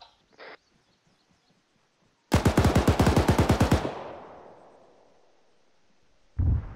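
A long, rapid burst of automatic machine gun fire in the Arma 3 military video game: about a dozen loud, evenly spaced shots with a lingering echo tail afterward, and no speech over it.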